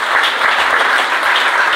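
A church congregation at a Haitian Protestant gathering claps in dense, steady applause that fills the whole stretch evenly and loudly, with no pauses or single claps standing out.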